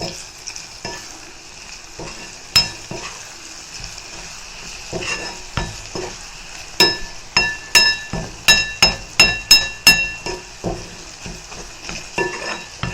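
A spoon stirs sundakkai pickle in sesame oil, scraping and clinking against the pan in irregular strokes that grow into a quicker, regular rhythm, with a soft background hiss.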